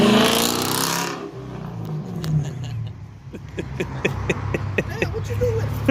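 A Chrysler 300S with a straight-pipe exhaust lets out one loud, raspy rev for about a second, then drops to a quieter idle with scattered clicks and knocks.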